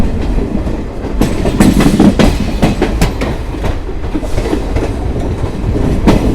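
Garib Rath Express, the Delhi Sarai Rohilla–Bandra Terminus train, rolling loudly on rails with steady rumble and repeated clickety-clack of wheels over joints, heard from on board.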